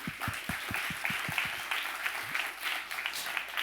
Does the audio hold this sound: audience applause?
yes